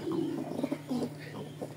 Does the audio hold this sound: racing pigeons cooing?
yes